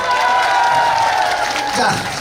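A festival crowd at a night chrysanthemum festival performance in Iksan claps and cheers in a dense, continuous wash, loud and close, with voices mixed into the noise.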